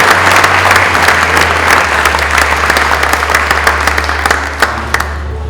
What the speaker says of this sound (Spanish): Brindamos nuevamente un fuerte aplauso para los y las estudiantes que se han hecho merecedores de este premio estudiantil